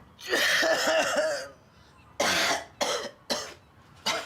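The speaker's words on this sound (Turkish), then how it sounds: "Niye öksürüyorsun sen?" A person coughs: one long rasping fit, then a pause and four short, sharp coughs in quick succession.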